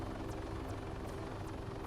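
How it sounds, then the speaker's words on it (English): A helicopter flies in the Arma 3 video game, giving a steady droning engine hum with evenly spaced rotor blade swishes pulsing throughout at moderate volume. "Helicopters are able to maintain extremely low-level flight with an experienced pilot"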